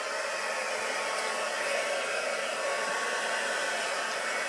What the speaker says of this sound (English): And then obviously I need my heat gun